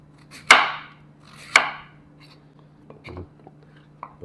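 A knife slicing vegetables for escovitch sauce, two sharp close cuts followed by a few softer taps on a board, in a quiet room without talk.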